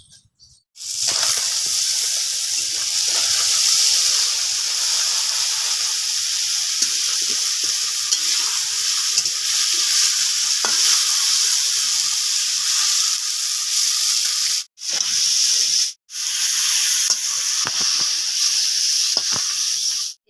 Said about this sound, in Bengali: মাছগুলোকে বেশি ভাজবো না, হালকা ধরনের উল্টে পাল্টে ভেজে নেব